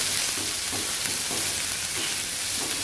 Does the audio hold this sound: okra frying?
yes